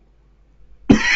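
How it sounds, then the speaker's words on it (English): A single sharp cough bursts out abruptly near the end after near silence, close and fairly loud. "That cough came out of nowhere there."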